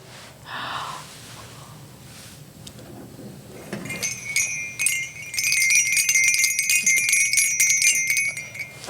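A bell rings out with clear metallic tones and shimmering overtones, sustained and moderately loud in the second half, after a few soft rustles and breaths.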